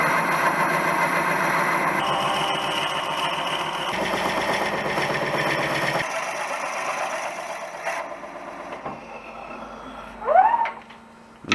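Wood lathe turning a travel coffee mug blank, a steady mechanical hum that drops away partway through, leaving quieter ticks and a brief higher whine near the end.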